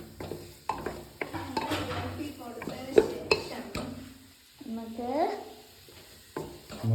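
Prawn biryani masala being stirred in a pressure cooker: a series of scraping, clinking strokes of a spoon against the pot over a soft sizzle, close and moderately loud, with brief pauses.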